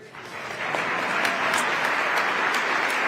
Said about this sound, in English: And then we can applaud them again.